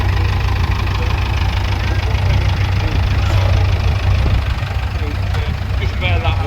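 A vintage tractor engine idles and chugs steadily in a tractor parade with Fords, Fergusons, David Browns and Marshalls. It gives a loud, low, knocking throb with a rough, even rhythm throughout, and a voice talks faintly over it.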